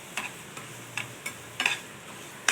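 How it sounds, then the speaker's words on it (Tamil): Semolina roasting in ghee in a pan, stirred with a spoon that scrapes and taps in irregular clicks over a soft, low sizzle. "அதே நெய்யில் 1 டம்ளர் ரவை எடுத்திருக்கேன், அதை நல்லா வறுத்துக்கலாம்."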